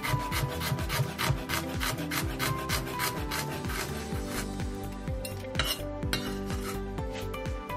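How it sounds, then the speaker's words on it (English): A knife slices ginger on a wooden board, with quick, steady chopping taps in a rapid even rhythm and a rubbing scrape between cuts, close and clear, with no voices. "roughly slice some ginger"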